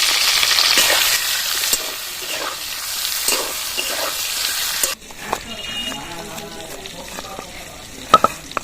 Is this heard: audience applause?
no